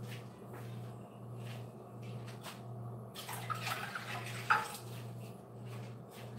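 Water is poured and tipped out of a pot while a homemade flan is prepared, heard as a soft trickling splash under a steady low kitchen hum, rising to a brief louder splash and clink near the end.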